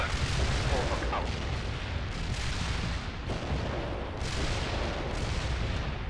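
A World in Conflict mortar barrage pounds in a loud, continuous roar of booming impacts and rumbling blasts, with several heavier thuds standing out across the stretch.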